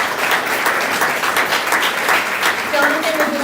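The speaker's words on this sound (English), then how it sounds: "Let's give a round of applause for all of our principals." Applause for school principals at a school board meeting, steady dense clapping from a seated audience throughout, with a voice briefly audible near the end.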